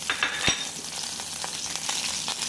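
Oil and cubes of butter sizzle and fry in a pan, a steady close crackle with a few sharp spits and stirring clicks, no voices.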